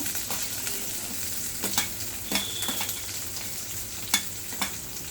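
Onion, green chillies and peanuts fry in hot oil with a loud, continuous sizzle, punctuated by light clicks from stirring.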